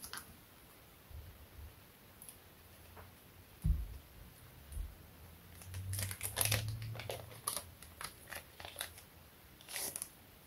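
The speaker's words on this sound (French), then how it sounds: "on va terminer les 3 derniers paquets pour voir au moins les dernières cartes" Goddess Story trading card booster packs being torn open and handled: foil wrappers crinkle and crackle in a dense run of sharp bursts, with a softer thump and rustle earlier, close and fairly quiet, with no talking.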